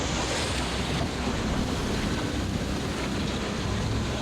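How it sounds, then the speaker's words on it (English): Heavy inshore ocean swell off Tasmania's west coast, heard from a lobster fishing boat: a loud, steady wash of surf and water with constant wind buffeting the microphone throughout. "Starting to think there's a little bit much swell here."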